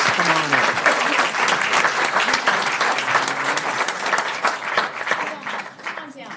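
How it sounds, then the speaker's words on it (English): Sustained applause from a city council meeting audience in Manhattan Beach honoring a group of local businesses, dense steady clapping filling the room for several seconds, with voices murmuring underneath and a gradual thinning toward the end. "Can we have an applause for this group of businesses?"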